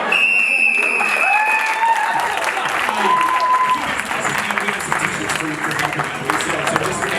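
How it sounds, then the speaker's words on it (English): A live show audience claps loudly, and dense, steady applause fills the whole stretch at close range, with some faint whistles and cheers mixed in. "One more big round of applause for our audience volunteers."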